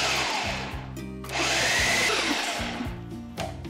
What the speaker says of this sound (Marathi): आणि हे जस्ट ब्लेंड करून घेऊयात.